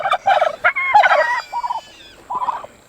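Curious turkeys gobble loudly and close in several rapid, warbling bursts, then a few shorter calls after a brief pause.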